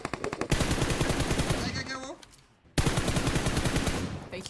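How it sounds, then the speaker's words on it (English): Loud, rapid automatic gunshots crackle in a battle royale video game, running in sustained bursts broken by a brief lull before firing resumes at full intensity. "I hear a lot of shots."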